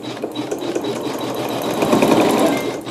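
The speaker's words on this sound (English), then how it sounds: "So then I can go ahead and stitch that seam." Sewing machine running steadily while stitching a quilt seam, a continuous close mechanical whir with rapid needle rhythm that holds for about three seconds, building slightly louder near the end, with no talk.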